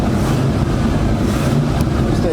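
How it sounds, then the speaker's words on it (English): A 1973 Ford Torino Sport fastback's 351 Cleveland V8, sitting after three years, running in a steady loud rumble close by, with talk partly mixed in. "And that 351 Cleveland sounds good. She's waking up."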